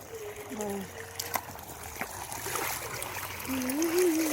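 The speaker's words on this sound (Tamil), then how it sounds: "நல்லா தண்ணி சூடாக வருது" Water flowing into a village farm field, a steady trickling and splashing stream heard close by throughout, with voices talking over it and a rising tonal whistle toward the end.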